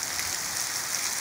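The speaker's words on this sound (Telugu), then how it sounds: "వర్షం చూడండి ఎట్లా పడుతుందో" Heavy rain pours steadily over a village, a dense, even hiss of drops close by with no pauses and no voices.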